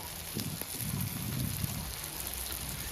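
Salt, turmeric and red chilli powder frying in a pan for a mushroom curry, giving a steady close hiss with soft crackles that never pauses.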